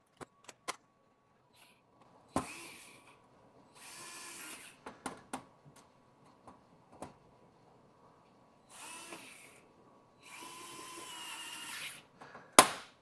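Short bursts of whirring from a DEWALT USB cordless screwdriver driving machine screws, four or five spins separated by quiet pauses, clicks and handling taps, close and fairly quiet.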